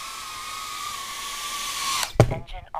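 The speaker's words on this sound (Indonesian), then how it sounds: "Jadi suara motornya halus guys." Motors of a Betafpv Pavo30 cinewhoop drone give a smooth, steady high whine that holds for about two seconds, then cuts off abruptly with a clatter as the drone lands on a table, followed by brief noise.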